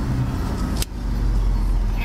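A car drives along, heard from inside the cabin as a loud, continuous low rumble of road and engine noise. A brief sharp clack cuts through partway in, and voices may be faintly present under the rumble.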